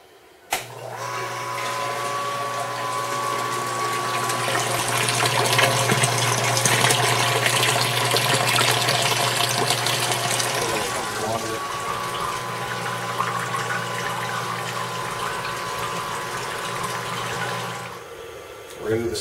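A pump on a home brewing system moves water from the kettle into the mash tun, giving a steady motor hum with a sustained tone and gushing water throughout, then fading near the end.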